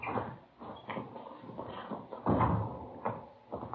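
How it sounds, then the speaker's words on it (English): A door is opened and closed close by in an indoor setting, with soft bumps and rattles under a general room hum, followed by a quiet murmur. "Here, I'll get the door."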